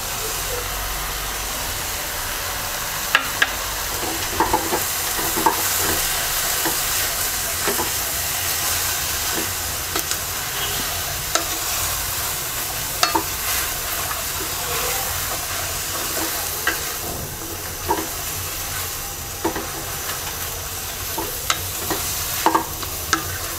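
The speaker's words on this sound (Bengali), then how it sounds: "একটা পেঁয়াজ কুচি দিয়ে দিচ্ছি।" Chopped onion frying in a pan for a Bengali red spinach and shrimp dish, a steady close sizzle and hiss throughout with frequent light scraping clicks from stirring, no talk.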